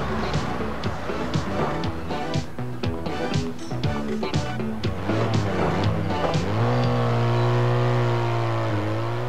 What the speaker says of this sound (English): Traffic can be very noisy.